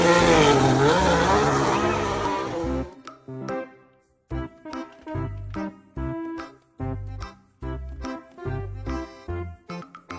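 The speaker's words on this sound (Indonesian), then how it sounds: "Mobil balap." A toy race car's engine screams and revs loudly for a few seconds, then cuts off into a string of short, choppy bursts of sound.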